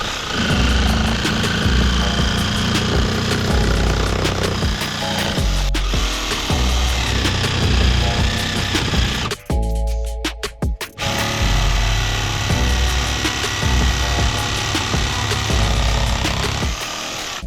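A jigsaw on its maximum setting saws steadily through a thick 30 mm wooden board, a loud continuous buzzing rasp that drops out briefly midway before resuming, with no talking.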